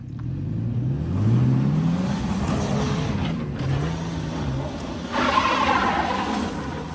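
A Toyota FJ engine revs hard in four-wheel drive while it struggles up a steep dirt slope of about 50 degrees, its tires spinning. The close, loud, sustained roar rises and falls without pause, and no one speaks over it.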